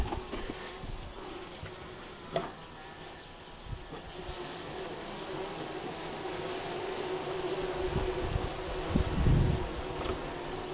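The last handful of honey bees from a collapsing colony in March hum in a low, steady drone, with a few faint knocks and a slightly louder swell near the end.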